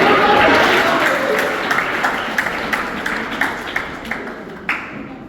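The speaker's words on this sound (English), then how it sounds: "let's have a big round of applause for everybody" Students at DAV Public School give a round of applause, a dense burst of many hands clapping that fades into scattered individual claps.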